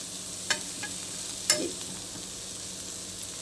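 Fish pieces fry in a little oil, giving a soft, steady sizzle with a few sharp ticks and pops, including a louder clack midway, and no voices.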